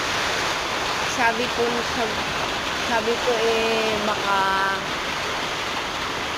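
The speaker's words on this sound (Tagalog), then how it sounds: "umuulan pa rin po dito sa amin. Saka may kasama na din po na hangin, kaunti-unti." Rain and light wind during a typhoon make a continuous broad wash of noise, while a person speaks briefly over it.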